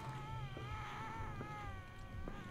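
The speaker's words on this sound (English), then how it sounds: "It sounds like a cat." A cat meows in a Minecraft horror game, a faint, drawn-out wavering wail that rises and falls continuously over a low background hum.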